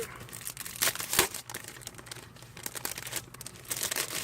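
Sheets of paper handled and leafed through while unboxing a paper crafting kit, crisp crinkling and rustling bursts that come in uneven waves, close and fairly loud, with no talking.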